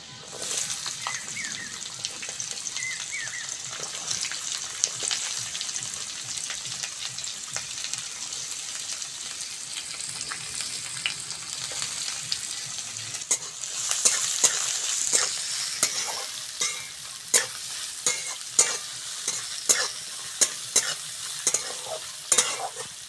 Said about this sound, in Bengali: পেঁয়াজ আর রসুনটা ভালো করে ভেজে নিয়েছি।